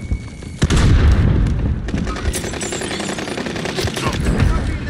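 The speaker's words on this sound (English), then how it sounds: "Throwing out the grenade." A grenade explosion and gunfire in the video game Call of Duty Warzone: a loud boom followed by sustained rapid shooting, close and dense, with players talking over it.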